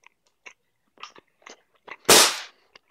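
A single sharp rifle shot rings out indoors, preceded by scattered small clicks and taps, loud and close in an otherwise quiet room.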